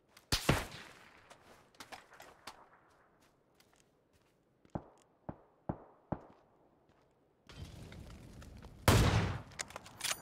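Sharp, isolated gunshots crack at irregular intervals in the video game PUBG, followed by a denser burst of noise and a loud blast near the end.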